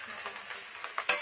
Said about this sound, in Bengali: আমি শিম ভাজছি